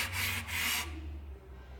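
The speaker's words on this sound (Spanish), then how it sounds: "ahora os dejamos un ratito mientras vamos lijando superficies" Hand sanding of a wooden pallet's surfaces with sanding blocks, heard as two close, loud rasping strokes in quick succession, then the sound fades to a quiet hum.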